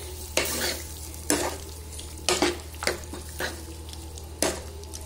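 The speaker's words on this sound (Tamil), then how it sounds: "நல்லா கிளறிடலாம்." A utensil scrapes and stirs cooked vegetables in their water in a pan for a vegetable kurma, in several distinct strokes, with a faint sizzle and low hum underneath.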